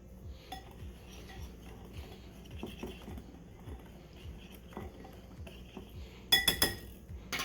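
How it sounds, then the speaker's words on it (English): Whisk ticking quickly and steadily against a bowl while mixing salt and black pepper, a soft, close, rhythmic clicking that ends in a few sharper clinks. "we're going to go ahead and give that a whisk"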